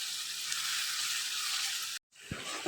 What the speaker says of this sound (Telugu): ఇవంతా గోల్డెన్ బ్రౌన్ కలర్ వచ్చే వరకు వేయించుకుందాం.